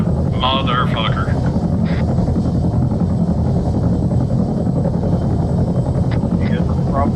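A helicopter in the video game Arma 3 gives off a steady, loud rotor and engine drone that fills the whole clip, with a brief voice heard near the start.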